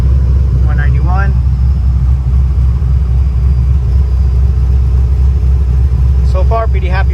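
A Datsun 240Z engine idles steadily with a constant low, close rumble throughout, while a person talks briefly near the start and again near the end.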